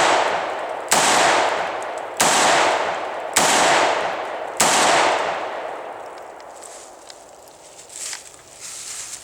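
Four loud, close revolver shots from a Taurus Judge, fired outdoors at a steady pace about a second apart, each with a sharp crack and a short trailing echo, followed by quieter handling rustle.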